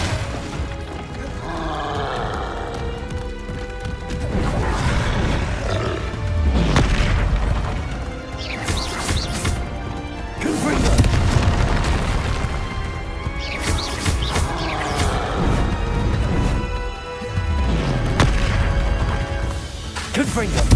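Repeated spell blasts and explosions from a Hogwarts Legacy fight, including Repulsor, Confringo and Incendio, land as loud booming crashes at irregular intervals over a dense, roaring battle soundscape.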